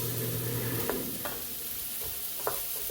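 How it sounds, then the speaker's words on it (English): Pink salmon with pepper stirred in a pan over a steady close sizzle, with a few light spoon clinks scattered through. "Now nicely stirring up."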